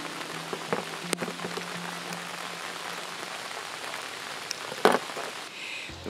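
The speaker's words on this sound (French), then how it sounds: "la pluie vient de passer" Steady rain patters on surfaces around a carp fishing spot at a gravel pit, a continuous dense hiss with a few sharper drops and knocks, no voices.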